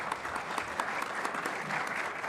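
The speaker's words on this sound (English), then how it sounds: "Applause for him." Applause from a conference audience at a game developers event, an even, fairly distant patter of many hands clapping that holds steady throughout.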